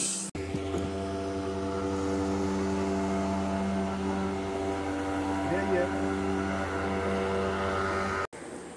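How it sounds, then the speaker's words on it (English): A steady jet ski engine drone hums continuously with a low tonal whine on the Pomeroon River, with faint talk underneath. "Jet ski in the water, man."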